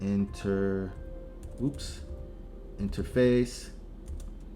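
Keys tapped on a computer keyboard while entering configuration commands for Cisco router interfaces; a few light clicks come through between and under a man's speech.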